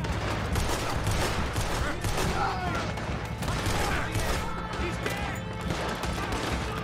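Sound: gunfire in video game Red Dead Redemption II

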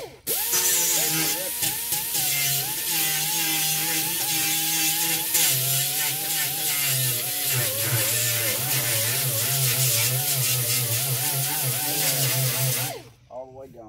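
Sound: grinding spots on a car body panel

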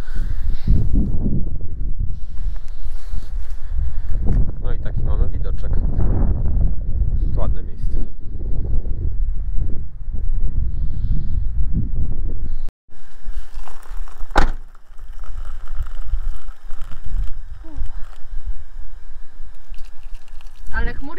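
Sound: strong wind

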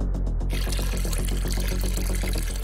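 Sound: water being poured into a pot

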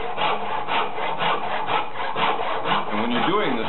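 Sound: hand saw cutting wood

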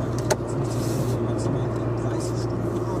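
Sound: car driving in traffic

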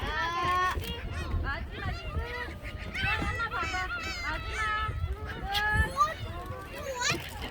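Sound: seagulls calling at Mokpo Peace Plaza

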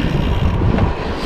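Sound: strong wind blowing on microphone while cycling in storm

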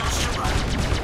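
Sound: missile firing from a ship in Star Citizen video game

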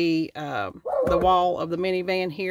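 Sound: dog barking

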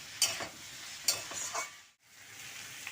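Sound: vegetables being stir-fried with spices

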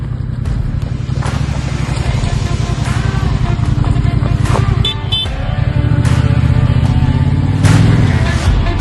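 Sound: motorcycle riding

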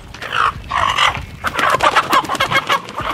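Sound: chickens clucking while being caught

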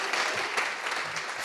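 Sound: audience clapping at live taping

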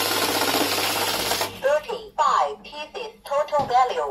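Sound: currency note counting machine with fake note detection

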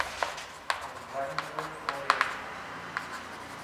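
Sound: writing a formula on the board

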